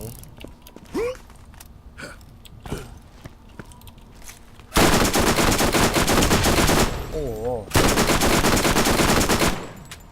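Loud bursts of rapid gunfire in the video game Borderlands, two long sustained volleys in the second half after quieter clicks and mechanical creaks.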